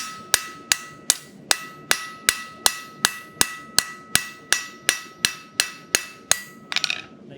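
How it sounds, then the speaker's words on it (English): A blacksmith's forging hammer strikes hot metal on an anvil in an even rhythm, about seventeen sharp ringing blows at regular intervals, close and loud, ending with a quick rattle of lighter taps. "Just hammer and anvil."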